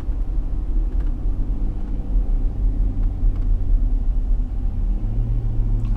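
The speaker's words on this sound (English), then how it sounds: "I love this engine brake. It mostly does it all for you." A Ford 6.7L diesel Super Duty pickup slows under engine braking while towing, giving a steady, loud low rumble that holds through the stretch, with no voices.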